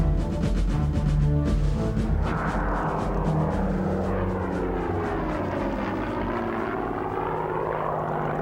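A Hawker Hurricane WWII fighter, R4118, roars past with a loud piston-engine drone and propeller thrum, its pitch sweeping downward as it passes, steady and dominant throughout.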